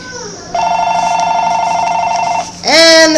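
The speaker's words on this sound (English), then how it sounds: "And the phone is ringing." A telephone rings loudly and close in a home kitchen, with a sustained electronic ring tone followed by a short burst of another tone.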